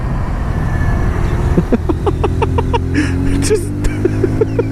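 Kawasaki Z125 Pro motorcycle engine braking while riding, a steady low engine drone with wind rumble running under someone talking close by.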